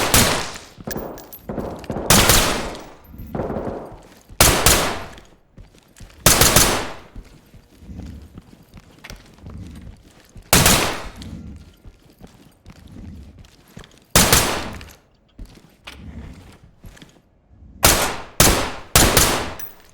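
Gunfire in the tactical shooter Ready or Not: loud, sharp bursts and single shots crack out again and again in irregular clusters, with brief quieter gaps between volleys.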